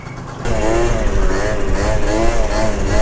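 A scooter with an aftermarket exhaust pipe roars in loud and close during wheelies, its engine revving hard and steadily climbing in pitch after a brief quieter start.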